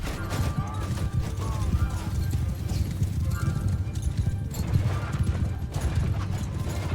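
Many hooves clip-clop in a dense, continuous rumble of galloping cavalry horses in Mount & Blade II: Bannerlord, with occasional clanks and a faint neigh over a busy battle din.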